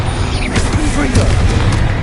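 A Confringo spell blast in Hogwarts Legacy, a loud booming burst, dense and close, while a voice speaks over it.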